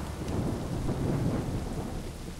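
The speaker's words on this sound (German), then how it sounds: "Ein Regenguss hier." Heavy downpour in Assassin's Creed III with a low rolling rumble of thunder under the steady hiss of rain, constant and fairly loud, no voices.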